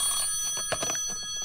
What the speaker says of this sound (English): The phone. Must answer the phone.